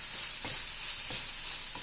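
A spoon stirs spiced cauliflower and potato sabzi with ginger, garlic and garam masala in a pan: three soft scrapes at an even pace over a steady, faint sizzle.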